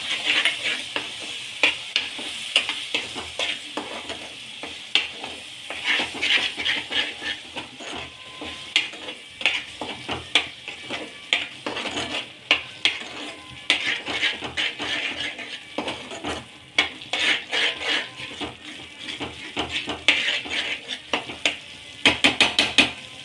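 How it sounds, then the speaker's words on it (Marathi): Spice paste with turmeric being sautéed in a pan for spinach egg curry, a loud continuous sizzle broken by frequent spatula scrapes and stirring strokes that keep a busy, uneven rhythm throughout, with no talking. "यात टाकू आपण हळद, परतवून घ्यायची आहे।"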